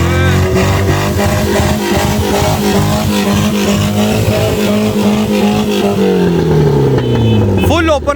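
An open drift car engine with no exhaust pipe fitted, not even a straight pipe, roars loudly and close, holding high revs before dropping off, while people talk over it.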